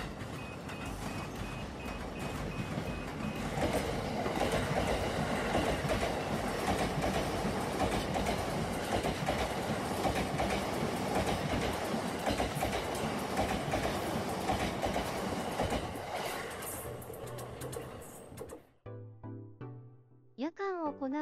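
A train rumbles past on the tracks, loud and close, with a steady rolling clatter that fades out near the end before brief voices, on a JR East line.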